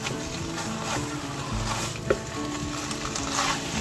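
Precooked macaroni and spinach simmer in a pan while a spoon stirs them, giving a soft steady sizzle with intermittent scraping and a light clink of utensil against the pan.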